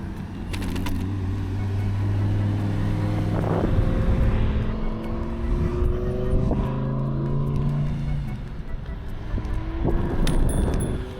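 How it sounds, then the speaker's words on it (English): A Lamborghini sports car's engine revs and roars past nearby, with rising and falling pitch as it shifts gears, loud and rumbling throughout. "We saw a Lamborghini drive by to the grocery store."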